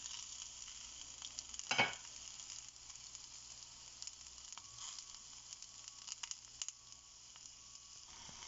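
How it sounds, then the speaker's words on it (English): Moringa (drumstick) leaves and other pachadi ingredients frying in a pan on a low flame, a soft steady sizzle with occasional stirring scrapes and a brief louder stir near the start. "While you are frying them, make sure you put low flame and you stir them properly"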